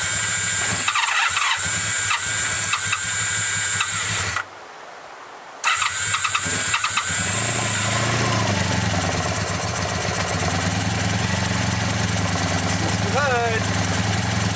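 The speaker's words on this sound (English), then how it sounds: "Turn the key on, give it a little choke, see what we get." A Honda Sabre motorcycle engine, choked and turned over after sitting, cranks with a brief cut, then catches and runs with a loud, steady mechanical drone close by.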